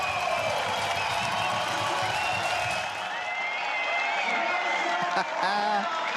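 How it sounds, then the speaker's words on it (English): At the Red Bull District Ride 2022 BMX event in the Big Air district, a large outdoor crowd cheers, whoops and claps steadily after a trick while an excited commentator talks over the noise. "Crowd love it."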